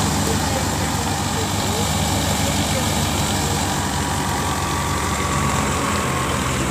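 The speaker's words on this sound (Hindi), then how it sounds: "उधर दोबारा स्टार्ट कर लिया मशीन" A wheat thresher's engine runs steadily at close range during a harvest, a continuous low droning rumble that holds without a break throughout, with no voices over it.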